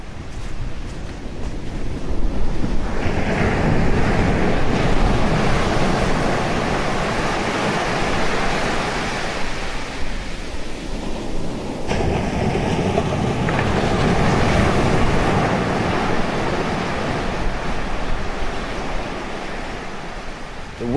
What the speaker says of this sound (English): We can hear the waves.